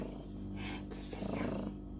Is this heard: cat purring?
yes